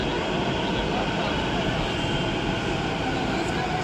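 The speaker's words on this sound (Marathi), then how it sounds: "आम्ही मेट्रो मध्ये पोहोचलोय" Steady, loud rumble and rolling hum inside a crowded Navi Mumbai Metro train carriage while it runs, with passengers' voices murmuring underneath.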